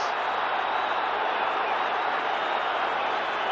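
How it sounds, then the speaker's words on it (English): A large Celtic football crowd at a 1986 match against Aberdeen roars in steady, dense protest after an offside call, a continuous wall of distant crowd noise. "the Celtic crowd very upset indeed"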